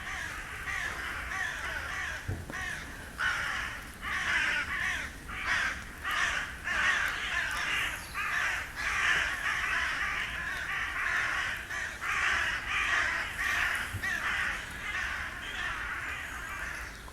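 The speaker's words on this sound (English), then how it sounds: "The birds are circling above the trees and calling." Crows caw repeatedly from a distance, circling above the trees of a Kent wood in May, a steady chorus of harsh calls overlapping in an open outdoor space for the whole stretch.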